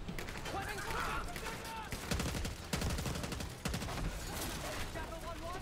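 Gunfire in Black Ops 6 crackles in bursts of rapid shots, with several loud volleys and scattered single cracks amid battlefield noise and occasional voices.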